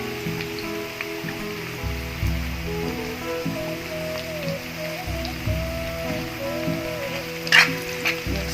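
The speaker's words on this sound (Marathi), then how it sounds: "चला आपण फोडणीचं सर्व साहित्य टाकून घेऊया कडीपत्ता टाकून घेऊया जिरं टाकून घेऊया" Onion tempering sizzles in hot oil as curry leaves and cumin are added, a steady, close crackling hiss with occasional stirring bumps and no talking.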